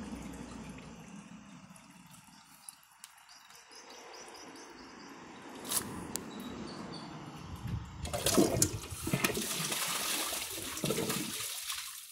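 A Kohler Class 5 toilet flushes into a bowl of water, a steady low wash of water swelling into a louder rushing gurgle in the second half, heard up close with no talking.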